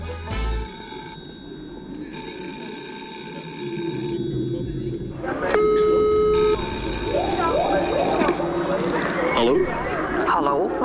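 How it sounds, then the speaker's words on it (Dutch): A telephone rings in repeated electronic bursts with short pauses between them, heard clearly under people talking, with a rising, sweeping tone near the end. "ik zie een telefoon staan en hij ringt"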